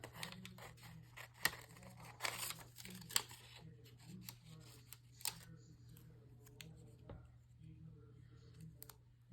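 Paper being cut out with scissors for a 7x7 travel album, close and quiet, with a run of snips and rustles in steady bursts over a constant low hum and no talking.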